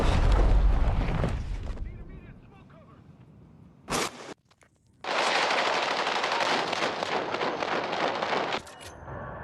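Automatic gunfire in the battle-royale video game PUBG, loud sustained bursts at the start and again through the second half, with a sharp short burst between and a quieter gap of talk in the middle.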